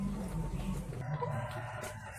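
Chickens at an egg-laying poultry farm with battery cages cluck and a rooster crows, the fowl sounds close and fairly clear against a low background hum.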